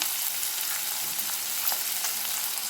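Onions sauté in a pan for a pepper prawn gravy, a bright, steady hiss of frying with faint stirring scrapes, close and continuous.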